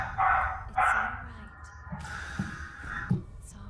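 A dog barks close by in a string of short, sharp barks spread across the few seconds, with a few quieter yips between them.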